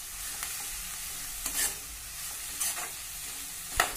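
Tomato and coriander sautéing in a pan, a quiet steady sizzle broken by a few scraping stirs of a spatula, close and with no voices.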